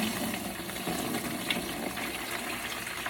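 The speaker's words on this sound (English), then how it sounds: "Got our soapy water. Now we're going to pour." Soapy water pours steadily over brass cartridge cases after pin tumbling during ammunition reloading, a continuous close gushing and splashing wash.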